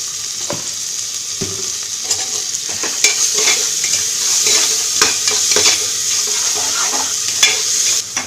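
Onions sautéing with salt in a pan for tomato rice, a steady close sizzle with repeated scraping stirs throughout, fairly loud and without any talking.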